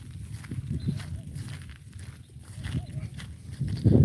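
Goat hooves patter and shuffle along a path at a steady walking pace, close by, with a few soft bleat-like calls and outdoor background noise.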